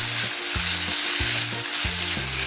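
Beef coated in potato starch cooks in a wok, a loud constant sizzle broken by regular scraping strokes of a utensil stirring the meat roughly every half second.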